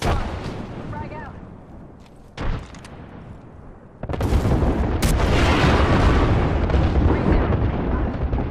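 A frag grenade detonates in Apex Legends gameplay, a heavy booming blast around the four-second mark that gives way to sustained loud rumbling and gunfire-like crackle, with an earlier short burst and talk-like sounds beneath.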